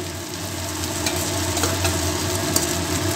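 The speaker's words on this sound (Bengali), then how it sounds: "খুব সুন্দরভাবে ভাজা হয়ে এসছে" Frying in a pan during preparation of a Bengali-style green banana kofta curry: a continuous close sizzle with light stirring scrapes, steady and fairly loud throughout.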